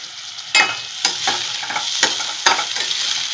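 Onion sautés in a pan with a bright, continuous sizzle, broken by a few sharp scrapes and clacks of a spatula, close up and without talk.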